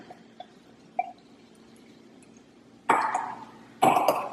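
Beer, a lager or pilsner, is poured into a glass in two short, glugging bursts, fairly close and alone, after a few faint clinks.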